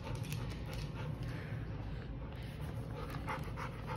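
A fearful dog pants steadily up close, with a few faint whimpers mixed into the fast, continuous breathing.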